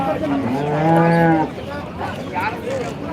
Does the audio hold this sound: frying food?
no